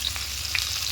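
Vegetables for shukto fry lightly in a pan with a steady, close sizzle and faint crackling pops, and no voices over it.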